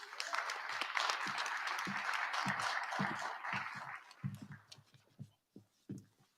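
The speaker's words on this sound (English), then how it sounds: "Please give them a round of applause." A Black History Month convocation ceremony audience applauds, a full roomy wash of clapping that thins out after about four seconds into scattered individual claps and then stops.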